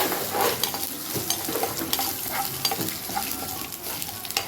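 Steady sizzling of crushed garlic frying in a pan, with occasional stirring scrapes, close and continuous with no talking.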